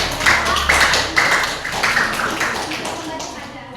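A class of students claps for a classmate after a correct answer, a dense burst of many hands that rises quickly and then thins out over several seconds, with a voice or two audible in the room.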